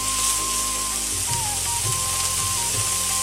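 Onions sizzle steadily in a pan over medium heat, with garlic and ginger paste in the mix for a butter chicken base. The hiss is continuous and close, with faint scrapes from the spoon and no talking.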